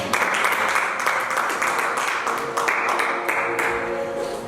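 A church congregation claps and applauds in acclaim of Jesus, a dense, steady wash of hands with a few cheering voices mixed in.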